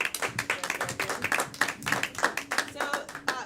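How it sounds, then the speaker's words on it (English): A live game-show audience claps for players called up on stage, a lively, uneven rhythm of many hands at close range, with voices murmuring beneath. "Clap for everybody."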